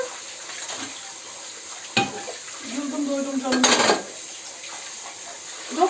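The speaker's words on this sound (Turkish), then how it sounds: "Yemek yaparken bu çıkan bulaşık" Kitchen clatter of dishes and utensils knocking together, with a couple of sharp clinks and running water or sizzling in between.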